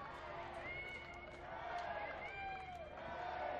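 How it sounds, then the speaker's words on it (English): A crowd at the dock for the line honours finish of the Rolex Sydney Hobart Yacht Race cheers and shouts. The voices are faint and distant, with overlapping hoorays carrying across the water. "Three cheers echoing out across the dock."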